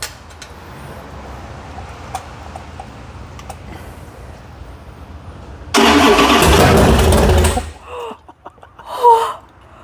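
Freshly built 512ci big block Mopar engine on its first start attempt: after a quiet stretch, the starter cranks loudly for about two seconds in a harsh broadband burst, then cuts off, followed by brief voices.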